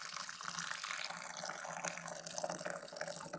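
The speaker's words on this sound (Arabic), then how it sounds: "هنايا غادي نشد ماء غليان غادي نكبو عليه." Boiling water poured from close range over freshly cut local eucalyptus leaves, a steady, soft splashing stream with no voices.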